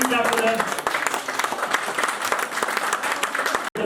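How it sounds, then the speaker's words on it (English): Sustained audience applause for contestants at a banking quiz semi-final, a dense steady patter of many hands clapping throughout with a brief dropout near the end. "So all of them deserve another round of applause. Please do clap for them."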